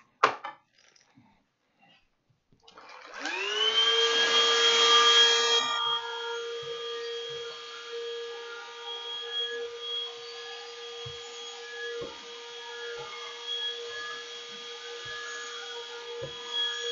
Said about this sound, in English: Get my little vacuum here. Vacuum most of the things away if I can.